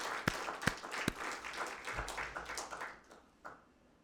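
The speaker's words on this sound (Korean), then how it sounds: "우리 수고하실 일꾼들을 위해서 격려의 박수하겠습니다" Faint congregation applause at a Sunday church service, a few sharp early claps followed by soft scattered clapping that thins out, with a quiet voice near the end.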